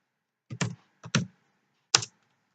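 A computer keyboard is typed on while writing HTML and CSS code, giving three short, distinct bursts of keystrokes close by, with quiet pauses between them and no speech.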